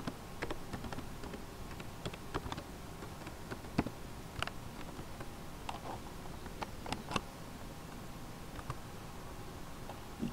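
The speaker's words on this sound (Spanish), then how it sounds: "Bueno, introduzco la contraseña." Keys tapped on a computer keyboard while a password is entered during a software install on Ubuntu 14.04, a quiet scattering of light clicks in short irregular bursts with no talking.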